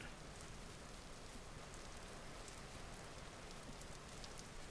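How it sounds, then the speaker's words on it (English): Rain in the Vintage Story survival game falls as a faint, steady hiss of drops with no pauses, quiet throughout with no voices. "It's raining."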